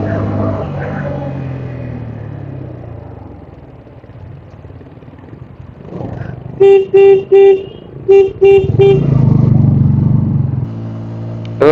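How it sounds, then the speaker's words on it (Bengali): Motorcycle horn on a high Arunachal Pradesh mountain road near 11,446 feet, honked in several short bursts over steady engine rumble while riding, close and loud. "বাচ্চাটা একবার দুবার হর্ন মারলাম, সরে গেল।"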